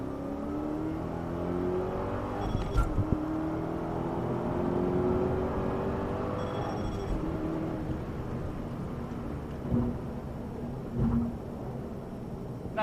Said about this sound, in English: we'll accelerate onto the freeway on ramp